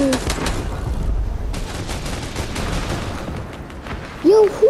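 Fortnite gunfire crackles in fast, dense bursts that fade over a few seconds, followed by a brief voice near the end.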